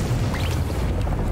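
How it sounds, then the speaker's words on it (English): A cannon launch in the video game Rumbleverse, a deep booming blast with low rumble that fills the whole short moment, loud and close. "Cannon launch."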